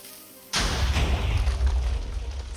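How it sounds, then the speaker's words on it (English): Ship weapons in the Strangelands video game open fire on a carrier, a single heavy boom followed by a rumbling, decaying blast that lingers loud for a couple of seconds. "Let's shoot at this carrier over here."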